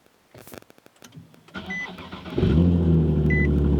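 A Nissan Z car engine cranks with a whir, then catches and settles into a steady, loud idle after winter storage; a couple of soft beeps chime over it.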